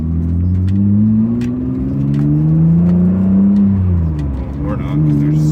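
A Mitsubishi car accelerating hard in a pull, engine note rising loudly and close, easing briefly near the end before picking up again, with faint clicks over the roar.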